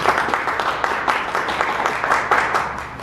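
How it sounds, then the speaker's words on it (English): An audience at a press conference claps in a round of applause, a brief burst of moderate, dense clapping that runs steadily and then eases off. "Can we give him a special round of applause?"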